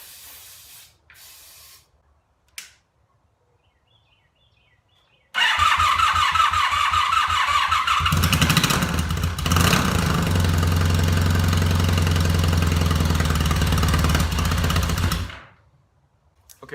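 A car engine with a failing fuel pump cranks and catches after a few faint clicks, then runs loud and steady at a rough idle for about ten seconds before shutting off abruptly.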